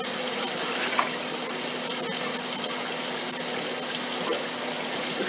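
Cold tap water runs into a container to measure liquid for bread machine dough, a steady, close, full hiss that holds evenly for the whole stretch, with no talk over it.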